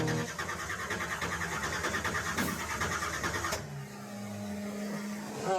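A car engine cranks and turns over with the ignition switch during a tight-budget muscle car build, a busy rhythmic mechanical churning that cuts off abruptly, leaving a lower idle-like hum.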